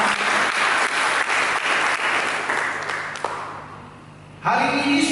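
A church congregation applauds during a sermon, a dense round of clapping that gradually fades before a voice cuts in at the end.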